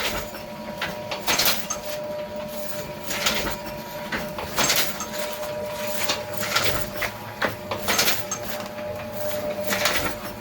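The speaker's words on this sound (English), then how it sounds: "So normally, if I were actually printing" A letterpress printing press runs in a print shop, giving repeated mechanical clanks and sliding thumps about every second and a half, close and steady over a faint hum.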